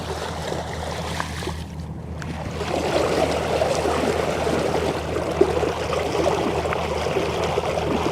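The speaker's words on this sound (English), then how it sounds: "Let me rinse my hands off." Running water splashes steadily over hands as they are rinsed on a fishing boat, a continuous close wash with a low engine-like hum underneath and no talking.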